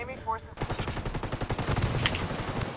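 Rapid automatic gunfire in the shooter game Ghost War, a fast, loud, rhythmic burst of shots that follows a short voice at the start and continues to the end.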